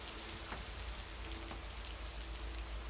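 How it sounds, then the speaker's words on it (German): Steady rain in the video game Lake, a continuous soft hiss of drops pattering on surfaces, even and unbroken with a low rumble beneath, no voices present. "Und es ist so laut. Der Regen hier."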